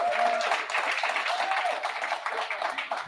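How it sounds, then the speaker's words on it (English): An audience at a town hall gives a short round of clapping, moderately loud and uneven, with voices and cheers mixed in among the applause. "that deserves another hand clap."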